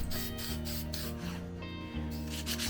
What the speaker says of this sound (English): I chose to end up going back with some sandpaper and going over those positive terminals with the sandpaper